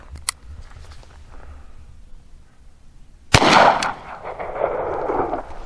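A Rossi Brawler single-shot fires a .45 Colt round: one loud, sharp report with a short ringing decay, preceded by quiet handling clicks and no speech.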